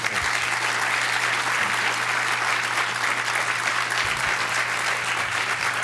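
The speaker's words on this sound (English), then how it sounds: "I'd like to end this discussion period with another round of applause for our speaker" A lecture audience at NASA Ames gives a sustained round of applause for a speaker, a dense, even wash of clapping that holds steady throughout with no talk.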